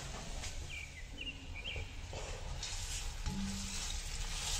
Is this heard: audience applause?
no